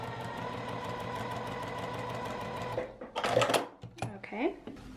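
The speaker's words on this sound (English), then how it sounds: "I'm gonna take these over to the sewing machine and just sew a quarter of an inch down the edge there" A sewing machine runs steadily, stitching a quarter-inch seam along the fabric binding edges of a knitting supply caddy, a fast, even mechanical whir that stops partway through, after which someone speaks.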